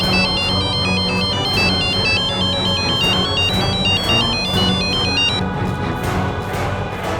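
A mobile phone ringtone plays loud and continuous, a repeating bright electronic melody cycling steadily for several seconds with no voices over it.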